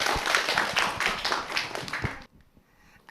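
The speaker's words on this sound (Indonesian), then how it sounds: "Tepuk tangan untuk Fahri" Audience clapping at an elementary school event for a student about to recite a poem: dense, steady applause for about two seconds that cuts off abruptly, followed by near silence.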